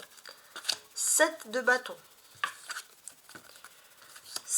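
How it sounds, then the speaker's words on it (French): Tarot cards are turned over and laid down one after another in a quick flurry of soft papery flicks and slaps, close by, as a French-speaking woman names the cards. "je vais retourner bien sûr toutes les cartes."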